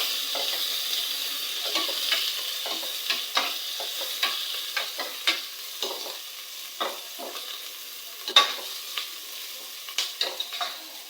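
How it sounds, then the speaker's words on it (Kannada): Green chillies and mint fry in hot oil in a pan for chicken sambar, giving a soft, constant sizzle broken by frequent sharp scrapes and clicks of a spoon stirring, close by and with no talking. "ಮೆಣಸಿನ್ಕಾಯಿ, ಇಷ್ಟು ಹಾಕ್ಕೊಂಡು ಎಣ್ಣೆಯಲ್ಲಿ ಹುರ್ಕೊಳ್ಬೇಕು."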